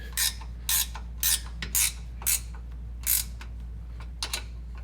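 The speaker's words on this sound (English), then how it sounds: "And now I'm going to finish tightening those up with the 15mm" A 15mm ratcheting gear wrench tightens the bumper bolts during a TMW Baja Turbo S bumper install, giving six or seven short crisp clicking bursts at a steady, close pace.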